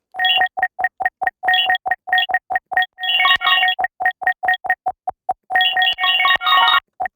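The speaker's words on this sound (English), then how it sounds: "There's this granular melody / percussion thing that I made." A granular synth melody with percussive character and no rhythmic filter chopping, built from short, bright, evenly spaced tonal pulses in a quick steady rhythm, with denser clustered notes partway through.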